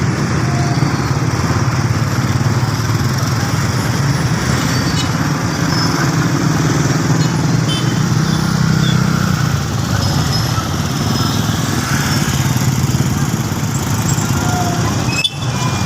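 Small motorcycle and car engines idle and rumble steadily at a busy traffic crossing, a loud and continuous drone with faint squeals and shifting revs.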